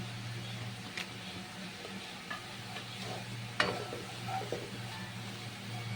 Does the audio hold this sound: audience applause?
no